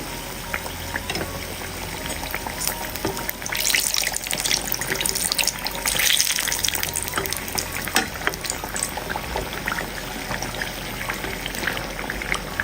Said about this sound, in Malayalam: ചൂടായി കിടക്കുന്ന എണ്ണയിലേക്ക് ഓരോന്നായിട്ട് ഇട്ട് കൊടുക്കുക